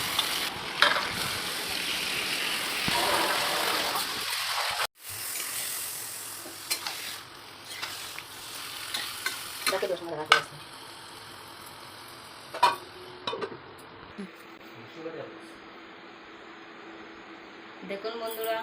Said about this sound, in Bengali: সবগুলো মাংস দিয়ে আমি ভালো করে নাড়াচাড়া করে নেব